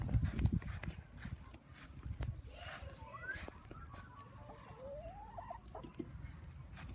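A fluffy-feathered backyard chicken clucking softly and intermittently nearby, with faint rustling and handling noises and quiet talk in the background.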